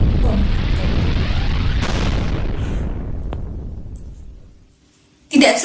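A bomb explosion effect: a loud, sustained broadband roar that rumbles on and slowly decays over about four seconds, fades almost to silence, and is then followed by a sudden burst of noise at the very end.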